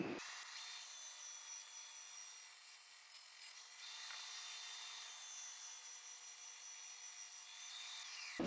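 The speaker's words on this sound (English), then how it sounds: "First thing I do is cut a piece of this mesquite." Saw cuts through a piece of mesquite wood in a workshop, a continuous hissing, rasping noise with faint whine, steady and close throughout with no talking.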